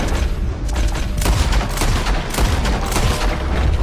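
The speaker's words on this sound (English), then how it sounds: "can we have one day without gunfire?" Heavy gunfire in Red Dead Redemption 2 sounds as a continuous loud barrage of overlapping shots and booms, with dense rapid reports across the whole stretch and no talking.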